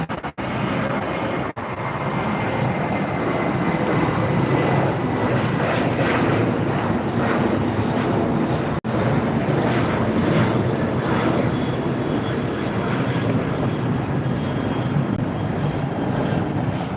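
A Sun Country airliner takes off at LAX, a loud steady jet engine roar filling the whole stretch with a rising, rumbling texture and no talk.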